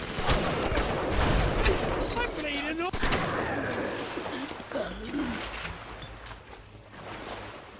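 Point-blank shotgun blasts in the video game Bioshock, a few sharp reports over busy game noise with bird-like chirps, while people talk over the action.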